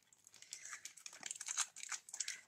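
A package is opened by hand with scissors, with close, faint crinkling and tearing of plastic wrapping in irregular bursts and no talking.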